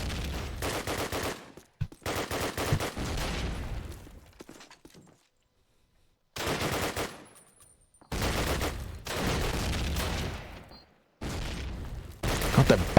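Bren light machine gun in Call of Duty 2 fires in loud, rapid bursts, several separate volleys split by short silent gaps.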